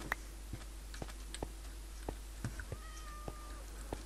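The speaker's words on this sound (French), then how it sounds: "J'ai entendu un chat." A cat meowing inside Minecraft, a few short faint cries over steady game ambience and scattered soft ticks, with no talking.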